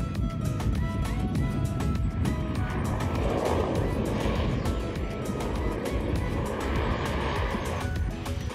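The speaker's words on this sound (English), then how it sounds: "taxied the seaplane to the beach and reversed it onto the sand" A seaplane taxis toward a beach at Dry Tortugas, its engine droning steadily and loudly throughout, close by, with a rough, buzzing propeller tone and some water or wind noise underneath.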